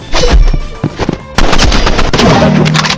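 Rapid automatic gunfire from the Roblox Rivals video game rattles in dense, loud bursts, with overlapping shot sounds and game effects layered throughout.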